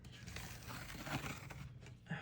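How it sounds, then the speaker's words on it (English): Tape is peeled off watercolor paper, giving faint crinkling and tearing rasps in short uneven strips, quiet and close. "I am the worst about taking the tape off."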